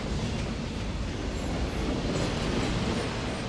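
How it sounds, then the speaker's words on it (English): A Golden Chariot locomotive running, heard from inside its cab: a loud, steady, broadband rumble and roar with constant low-end drone and faint rail clatter, continuous throughout with no voices. "It's the first time I've ever been inside a locomotive."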